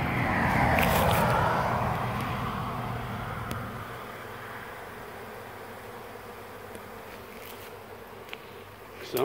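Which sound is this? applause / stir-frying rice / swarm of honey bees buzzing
swarm of honey bees buzzing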